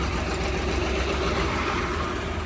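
An older 1998-model tractor engine runs at a busy tractor market in Moga, Punjab, giving a steady, continuous low diesel idle drone that fills the whole stretch without break.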